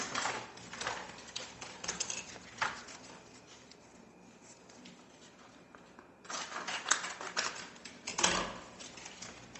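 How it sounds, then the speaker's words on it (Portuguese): Acetate sheet is cut up close in short crisp bursts of rasping, clicking snips, separated by a quieter stretch, with no speech. "Vou cortar aqui o acetato."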